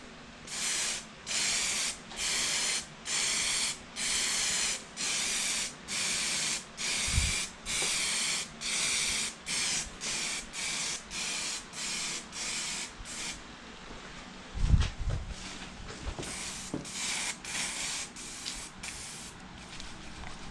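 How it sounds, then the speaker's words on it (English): Aerosol spray paint can coating a car bumper in smooth side-to-side passes, giving about a dozen short, evenly spaced bursts of hiss in a steady rhythm, followed by quieter handling noises and a couple of soft thumps. "I'm going to shake up the can and we're going to do smooth left and right strokes."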